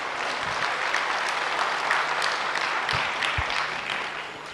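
Sustained applause from an audience, dense and steady clapping throughout, with no voices standing out.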